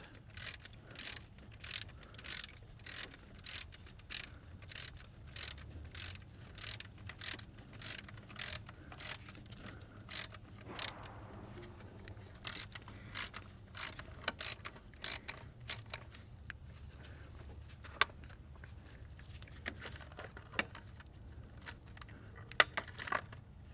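Repeated metallic ratchet clicks in quick bursts as bolts come off the ignition coil mounting bracket on a GM Vortec V8 intake manifold, close and fairly quiet with short pauses between runs.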